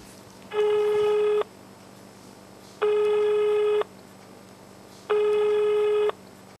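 A telephone busy signal from a call that goes unanswered: three evenly spaced tone bursts, each about a second long, loud and clear over a faint background hum.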